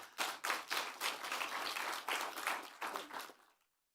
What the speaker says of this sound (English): we give a final round of applause to our resource people and panelists